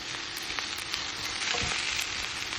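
Mushrooms and a little meat sizzle steadily on a grill pan, a dense continuous crackle with occasional louder pops, close and loud with no talking.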